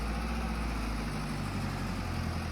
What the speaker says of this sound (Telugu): మన జాన్ డియర్ బేసిక్గా స్మాల్ ట్రాక్టర్ కాబట్టి ఇది లోడ్ కూడా ఎక్కువ లాగలేకపోతుంది